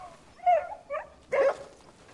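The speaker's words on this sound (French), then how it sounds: "Le petit chiot." A puppy in the video game Crimson Desert yelps and whimpers in three short, high bursts, close and clear, with quiet gaps between them.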